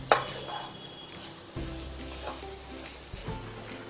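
Moong dal and khoya being roasted for moong dal barfi give a soft, close sizzle, with a few utensil scrapes and knocks against the pan as the mixture is stirred.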